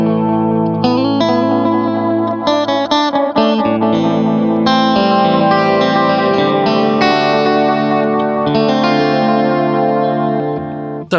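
A Stratocaster plays through a Boonar Tube Deluxe echo pedal and amp, a flowing melodic line of notes and chords trailed by repeating echoes that smear into a lush, sustained wash, alone and close.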